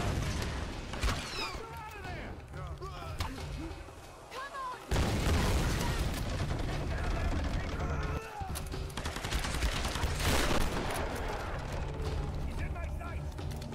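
Gunfire and booming explosions from the action video game Tomb Raider Definitive Edition, loud and dense with repeated blasts and crackling bursts, a heavy surge near the middle, while a person talks over the game sounds.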